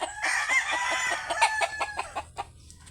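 Chickens on a farm, including a rooster, give a rapid series of fairly close clucks and a short crow-like call, with no talking over them.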